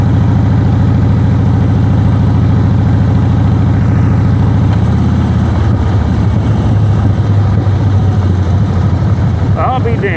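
A Harley Davidson motorcycle, a salvage-auction wreck, runs loud and close with a steady engine drone that shifts pitch as it climbs through the gears, while a voice talks over it.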